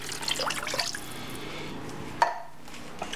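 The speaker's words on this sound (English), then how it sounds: "Here's the water." Water splashes and gurgles as it pours into a container for about a second, followed by a quiet pause and a single clink.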